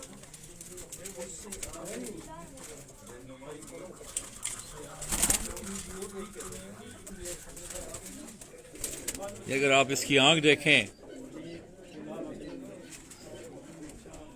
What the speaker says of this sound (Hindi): ये टुनिया नस्ल के कबूतर हैं